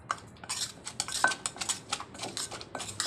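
A papaya salad with blanched shrimp is pounded in a mortar with a pestle, giving quick, close, irregular knocks and clatters of utensils at a moderate level.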